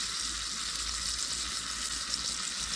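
Steak and vegetables sizzle in a pan over a campfire at camp, a loud, steady, close hiss of frying that holds without a break.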